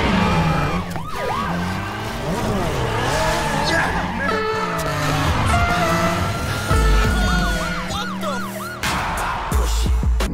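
Racing cars from a Need for Speed game trailer roar loudly and up close, with engines revving and shifting pitch, siren-like wails, and a dense backing of music and effects throughout.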